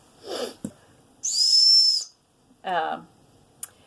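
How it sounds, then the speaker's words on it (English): A small whistle with a little compass on the end gives one shrill, steady blast of under a second, framed by breathy puffs, a short click and faint handling noises close by. "it's a whistle. It's got a little compass on the end."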